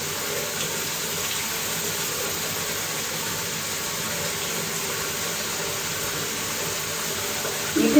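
Tap water runs steadily to fill a bath, a constant broad rushing wash that holds even throughout with a faint bump near the end, no voices present.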